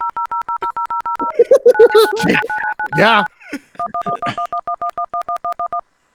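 Keypad tones dial into Experian's automated phone system: a fast, even run of touch-tone beeps, then a recorded voice prompt, then another steady string of key presses, all loud and close.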